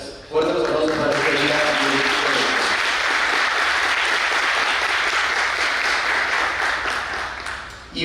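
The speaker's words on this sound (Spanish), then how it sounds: "Fuertes aplausos para esta" Loud, sustained applause from an audience at a journalism conference on reporting in conflict zones, rising quickly and holding steady for several seconds before tapering slightly, following a brief voice at the start.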